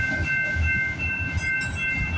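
A CP freight train rolls past at night at Guelph Line, Mile 38 on the Galt Subdivision, its engines rumbling close under a steady high whine, with a faint clack from the cars.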